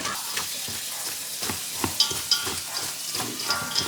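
Three pounds of ground beef sizzle steadily in a pot while a utensil chops and scrapes through the meat, giving a continuous frying hiss broken by sharp, irregular clicks.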